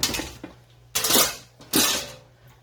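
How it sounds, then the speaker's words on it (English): A metal lid is set onto a pressure canner loaded with pork chops, giving three clanking metallic contacts, the last two loud and ringing briefly. "we're going to put our lid on here."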